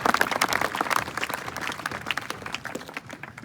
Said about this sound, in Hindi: तालियां कमजोर रह जाती है तुम्हारी।